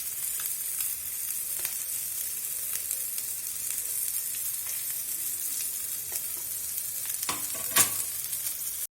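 Marinated mackerel fish fries on a tawa in a steady, close sizzle with light crackles and a sharper clatter near the end, no voices.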